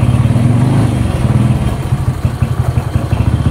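A Honda Win motorcycle fitted with a Honda Grand engine idles loudly nearby with a steady throbbing putter and some mechanical clatter, rising slightly partway through; the chain is somewhat too tight.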